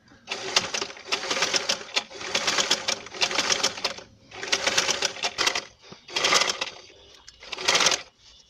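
A sewing machine stitches elastic into the waistband of palazzo pants, running in short, rapid mechanical bursts with brief pauses between them. The machine is close and distinct, with no talking heard.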